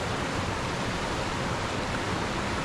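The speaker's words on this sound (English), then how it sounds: "This is just the lower part of the waterfall. There's a lot of water on today." Lower part of Rattle Falls carrying a lot of water, a loud, continuous broadband rush of falling water filling the whole clip without pause, close by and with no voices.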